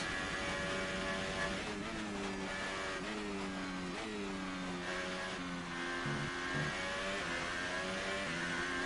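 An F1 2018 race car engine in the video game drops through the gears, its loud, close whine stepping down in pitch with each shift, with no talking.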